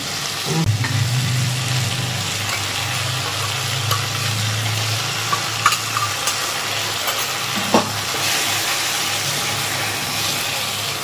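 A ground paste of coriander, cumin and ginger fries in oil for a catla fish curry, a steady close sizzle with occasional stirring scrapes and light clinks, no speech.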